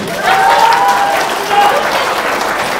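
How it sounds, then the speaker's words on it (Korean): An audience at a political seminar bursts into applause for someone in the room, a loud, dense clapping that swells and holds steady, with a voice briefly sounding over it. "저분께 박수 좀 드립시다 우리."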